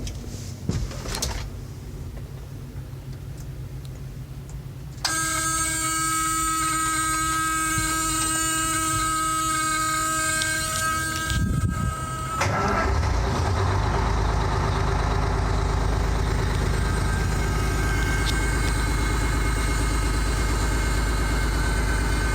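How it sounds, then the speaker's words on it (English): A 1976 International dump truck with a Detroit 453 diesel cranks briefly, catches with a loud burst, then settles into a steady, close, droning idle that runs on under a continuous mechanical hum. "Let you hear this old truck start real quick."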